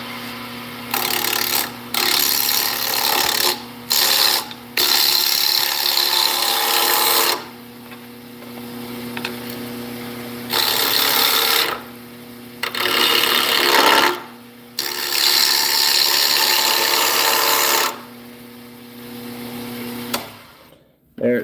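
A bowl gouge with a tight point cuts into a spinning wooden workpiece on a lathe, giving loud rasping, shaving bursts that start and stop repeatedly across the span with short quiet gaps and a steady motor hum beneath.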